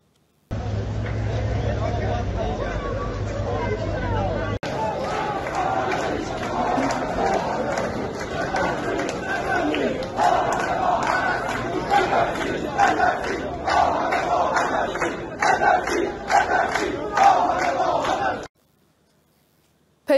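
Protesters chant slogans against the Iranian regime in a street rally, a dense crowd roar with rhythmic shouted bursts that carries steadily for about eighteen seconds before cutting off.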